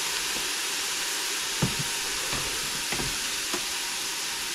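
Garlic and chopped onions fry in a pan for Zuppa Toscana, a soft continuous sizzle with a few dull thumps and scrapes of stirring near the end.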